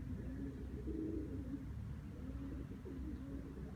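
Pigeons coo steadily at moderate distance on a rooftop loft, low repeated throaty calls running through the whole stretch with no talking.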